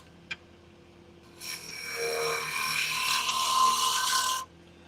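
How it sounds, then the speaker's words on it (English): A carbide turning tool with a negative rake cuts wood on a lathe, giving a steady, close scraping rasp that starts after a brief click and runs for about three seconds before stopping. "I'm actually gonna use the carbide just for a minute here"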